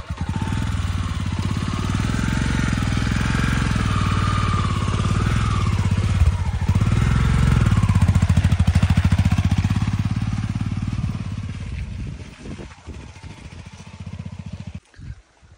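A motorcycle engine runs loud and close at a steady rumble, revs slightly, then fades as the rider pulls away at dusk through an open gate.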